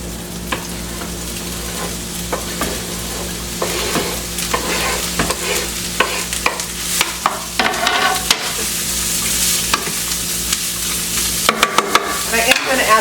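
A chopped onion cooks in a pan with leftover grease, giving a continuous sizzle broken by frequent scraping and clacking stirs, with a burst of sharper knocks near the end.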